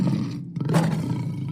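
A person vocally imitates a lion's roar, a single loud, rough, drawn-out growl delivered up close with no other talking.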